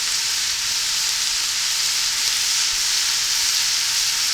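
Steady, even sizzle of vegetables sautéing in a very hot pan while making vegetable stock, a continuous hiss with no pauses and no voices.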